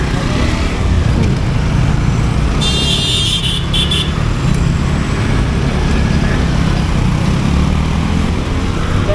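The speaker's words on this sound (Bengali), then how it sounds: "দেখেন অস্থির চালতেছে বাইকটা" A motorbike being ridden along a road makes a loud, steady engine drone mixed with rushing wind and road rumble, a short bright electronic beep cutting in briefly near the start.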